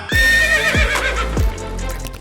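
A prized Punjabi horse gives a loud, close whinny with repeated falling squeals, accompanied by low rumbling and faint hoof sounds.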